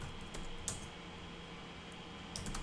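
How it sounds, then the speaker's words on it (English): Soft, sparse clicks of typing on a computer keyboard, a few faint keystrokes over a steady background hum, no talking. "I just type it here"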